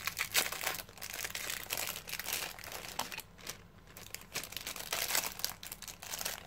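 Gift parcel from a summer contest being opened, its packaging crinkling and rustling in close, continuous bursts with brief pauses, no voices.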